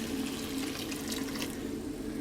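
Water pours steadily into a pan of browned taco meat, a continuous close rushing splash that holds at an even level throughout.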